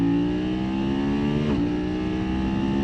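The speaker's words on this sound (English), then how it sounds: "XR can go from 40 miles an hour to 80 miles an hour" A 2025 BMW F900XR motorcycle pulls hard from 40 to 80 mph on open highway, its engine note climbing steadily and loud, with a brief dip around a gear change before rising again; no voices.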